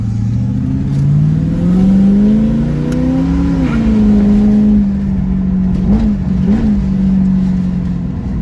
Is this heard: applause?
no